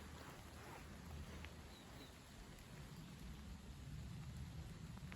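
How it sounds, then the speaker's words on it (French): Steady rain falls in a soft, constant hiss, fairly quiet and even throughout, with a low rumble underneath. "la pluie refait son retour"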